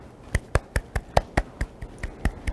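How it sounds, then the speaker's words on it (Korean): A dozen or so distinct, fairly evenly spaced claps, quiet and close, welcome a semiconductor engineering professor at a Saturday science lecture held online. It sounds like one or a few people clapping rather than a crowd. "그러면 큰 박수로 모셔보도록 하겠습니다."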